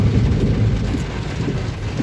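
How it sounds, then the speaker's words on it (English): Heavy rain pouring down, a dense, steady hiss and patter with a deep rumbling undertone, loud and continuous, with nobody talking. "it's raining. Cats, dogs, everything."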